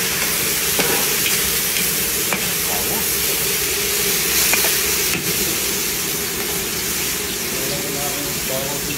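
Pampanga-style bacon frying in a pan at home, a steady dense sizzle and hiss running throughout with occasional faint clicks and stirring scrapes, close and continuous.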